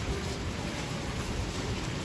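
Heavy rain pours down steadily outdoors during a student interview, a dense, even wash of noise filling the whole stretch without pause or voices.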